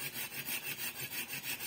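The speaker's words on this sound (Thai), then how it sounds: "ผมจะมาลองเลื่อยไอ้ต้นมะขามนี้ข้างบ้านนี่ดูนะครับ" A compact folding hand saw cuts through a tamarind tree beside a house, giving a rhythmic rasping of quick, even back-and-forth strokes, close and moderately loud, with no voices.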